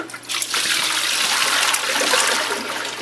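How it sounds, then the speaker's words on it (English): Water is poured into the hoppers of a commercial frozen yogurt machine during cleaning, a steady loud rushing splash lasting about three seconds with no talk. "we're going to go ahead and pour water again in the hoppers"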